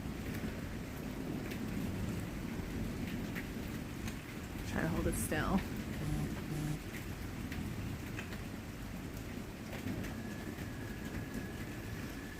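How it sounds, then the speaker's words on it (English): Steady rain falls through a Middle Tennessee thunderstorm, a dense continuous hiss with no distinct thunder clap standing out, while a person speaks briefly over it. "This is literally happening as the storm's coming through."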